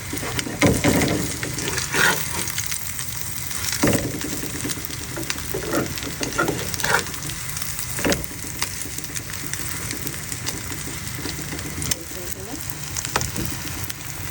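Eggs fry in a pan with a steady, close hiss and crackle, broken by occasional utensil knocks and scrapes, with faint voices now and then.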